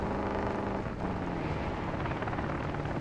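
Helicopter in the video game Modern Warfare 2, a continuous loud rotor chop and engine drone with a rushing wind-like roar, steady throughout and close.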